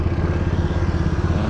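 A 90cc 2-stroke Grandio scooter with a touring port setup rides along, its engine droning steadily and close with a rapid, buzzing pulse and no talking.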